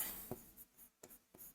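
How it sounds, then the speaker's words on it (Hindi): Handwriting during a lecture on the Legal Services Authorities Act, soft scratchy strokes on a board or paper in a few short quiet bursts, close and alone. "यहां लिखता हूं"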